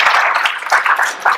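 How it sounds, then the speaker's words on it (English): Audience applause at a graduation ceremony, a steady wash of many hands clapping together, fairly close and continuous throughout. "Let's have a round of applause for our AV support"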